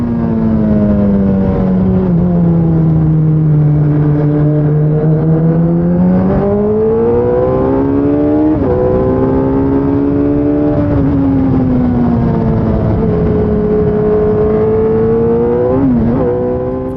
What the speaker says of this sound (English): So now we're going to get around these last 2 corners here and start our first push lap.